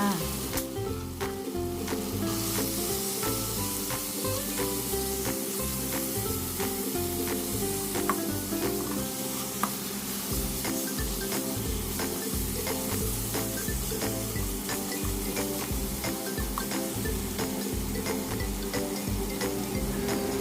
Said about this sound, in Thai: เมื่อกระทะร้อนแล้วใส่หมูหมักลงไปเลยค่ะ